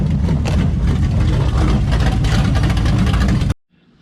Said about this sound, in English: It's a crate motor. It's just a crate motor.